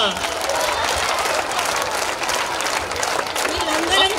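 Audience at a Savitribai Phule Jayanti celebration claps in a sustained, dense burst of applause that fills the whole moment, with crowd murmur mixed in.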